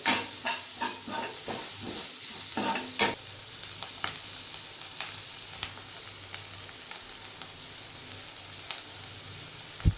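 Spices and vegetables stir-fried over a high flame for egg noodles, a steady close sizzle with repeated scraping and stirring strokes early on, then a quieter constant frying hiss.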